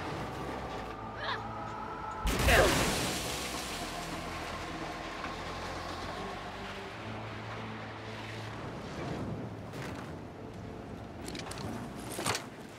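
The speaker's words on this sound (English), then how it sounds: "Our rocket train's facing the wrong direction, which is why it's called a turntable." Rocket train from the Gears 5 video game rolling on a turntable: a loud burst of rumbling, clanking rail noise early on, then a steady low mechanical rumble with scattered clanks and rattles throughout.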